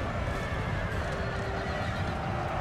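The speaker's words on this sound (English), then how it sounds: "That's a lot of horses." Massed cavalry in a Napoleonic-era strategy battle game, with many horses' hooves drumming in a dense, continuous rumble and occasional whinnies over a steady background din.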